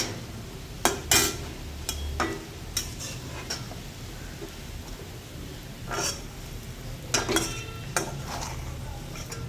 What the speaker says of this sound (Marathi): आता छानपैकी आपण याला चांगलं तळून आणि डार्क ब्राऊन कलरचा करून घेऊया